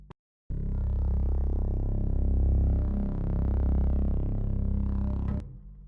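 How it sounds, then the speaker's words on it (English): An invented alien language sound effect: a steady, buzzing, warbling synthetic drone with rippling pitch, loud and continuous for about five seconds before cutting off abruptly. "a strange complex language that sounds like this."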